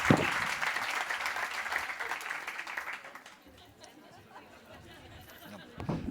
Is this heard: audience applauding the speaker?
yes